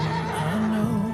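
A horse neighing in one short, wavering whinny heard close and clear, with no talk over it.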